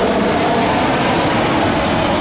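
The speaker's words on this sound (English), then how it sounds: "Let the airplane pass, man." An airplane roars overhead on a street corner, a loud, steady broadband rumble that fills the whole stretch.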